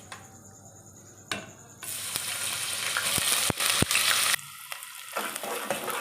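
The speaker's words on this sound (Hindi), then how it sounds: "प्याज को हमने ज़्यादा फ्राई नहीं करना है, लाइट कलर बस देना है" Grated onions with whole spices are dropped into hot oil and burst into a loud, steady sizzle for a Pakistani chicken and potato salan, with a few stirring clicks and no talking.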